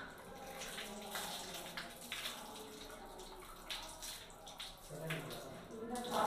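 Weak water flow from a bathroom pipe after pipeline cleaning, a steady thin hiss and trickle running throughout with people talking over it.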